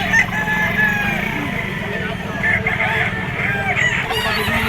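Bull stag roosters crow repeatedly and cluck amid the steady din of a crowded poultry auction market, with calls overlapping close and far above constant background murmur.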